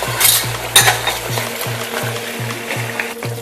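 Ghee sizzling in a pan while chhanar kofta kalia cooks, a steady close frying hiss with a repeating low mechanical hum pulsing underneath and some stirring scrapes.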